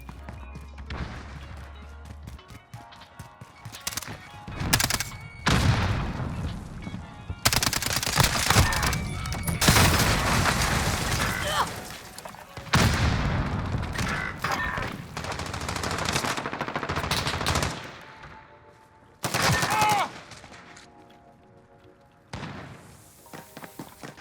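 Game gunfire fills a Modern Warfare Search and Destroy match, with bursts of automatic fire and single sharp shots coming in irregular loud clusters and pauses between them, plus occasional thuds and crashes.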